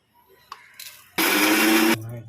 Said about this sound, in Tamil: உப்பு பெருங்காயம் போட்டு அரைக்கிறோம்.